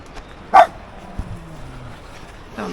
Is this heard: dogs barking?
yes